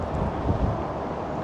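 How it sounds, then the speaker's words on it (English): Strong wind buffets a microphone outdoors at the California State Railroad Museum, a loud continuous low rumble with gusty swells and no talk. "It's really windy."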